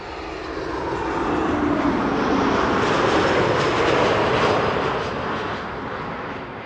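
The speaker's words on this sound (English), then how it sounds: "Max 8737 arriving from Dublin, Ireland. Ryanair flight 420." A Ryanair Boeing 737 MAX 8 arriving from Dublin at Amsterdam Schiphol Airport, loud jet engine roar swelling as it passes close by and then fading slightly as it lands.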